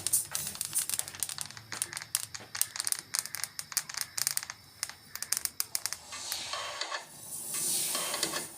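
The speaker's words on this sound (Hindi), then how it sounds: "अब तिल मैं भून रही हूँ।" Sesame seeds roast in a kadhai, giving quick dry crackles and scraping stirs in an irregular rhythm, then a softer steady sizzle, close and fairly quiet with no talk.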